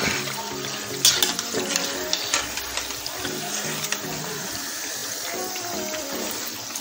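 Banana fritters (ethakka appam) fry in oil in a pan after being flipped, a steady crackling sizzle with occasional louder spatters and clinks, and faint speech in the background.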